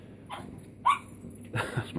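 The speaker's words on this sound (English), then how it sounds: "That's my dog going crackers, wants to go outside." A dog gives a few short, excited barks and yelps in bursts, fairly close, with quiet background hum between them.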